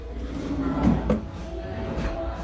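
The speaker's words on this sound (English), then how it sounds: "I'm gonna open and close the drawer for you and see if you can hear it." A Pottery Barn Cayman bedroom dresser drawer, not soft-close, slides open and shuts, with two soft knocks close together in a quiet room.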